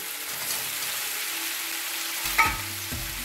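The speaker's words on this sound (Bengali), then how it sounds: "এবার খুব ভালো করে কষিয়ে নেব। তাতে সমস্ত সবজিগুলো খুব ভালো করে কষিয়ে নিয়েছি।" Spice paste with chopped tomato and ridge gourd sizzles steadily in a pan, a continuous close frying hiss with a brief scrape of stirring near the end.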